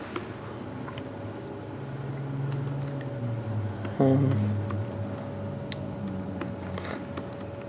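Sparse, faint key clicks from a computer keyboard as a search term is typed, scattered irregularly over a low steady room hum.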